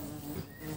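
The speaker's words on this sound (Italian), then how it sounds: "Ci mancava l'ape." A bee buzzes close by in a steady, continuous drone through the short moment, with no talking over it.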